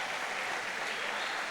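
A church congregation at a worship service applauds in a brief, steady wash of clapping that holds even from start to finish, with no talk.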